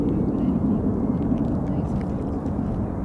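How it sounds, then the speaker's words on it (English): Boeing 737 MAX 8 airliner at SFO airport, a steady, loud broadband jet roar holding constant throughout with no clear rise or fall, no talk over it. "Boeing MAX 73-8. YVR, Vancouver, British Columbia."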